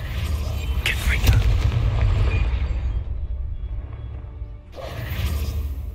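Confringo blasting spell going off in Hogwarts Legacy, a deep booming blast with whooshing rumble that swells, drops away briefly and returns, with voices over it.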